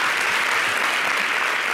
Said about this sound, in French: Et il faut encore applaudir encore pour nos doyas du Zouglou